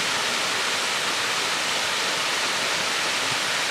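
Wentworth Falls waterfall roaring in a steady, loud broadband rush of falling water that fills the whole clip, close by with no voices.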